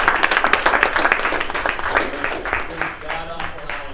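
Brief rhythmic clapping from business boot camp attendees at an early morning workshop, close and lively at first, then thinning out as voices rise over it.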